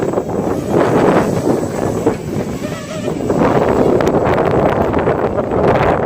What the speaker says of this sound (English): So super windy, not the best day to show you guys this thing